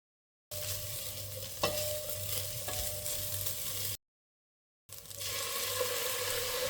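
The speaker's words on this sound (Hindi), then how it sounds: "अब हमने इसको ऑयल में कुछ सेकंड्स के लिए सौते करना है।" Shredded chicken sautéing in a spoonful of olive oil, a steady sizzle with stirring scrapes, cut by a short silent gap before the frying resumes at a similar close level.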